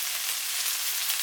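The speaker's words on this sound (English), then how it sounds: "Add the bok choy, the tomato," Chicken udon stir-fry sizzles steadily in a hot pan as bok choy and tomato go in, a dense, even hiss held close and loud with no talking.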